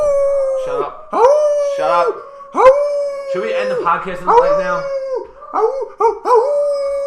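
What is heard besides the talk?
dog howling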